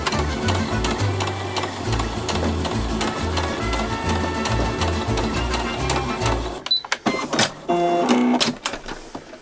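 Sewing machine running slowly while stitching a jumper sleeve, a rapid steady mechanical chatter for about seven seconds, then stopping into scattered clicks and handling noises as the fabric is adjusted.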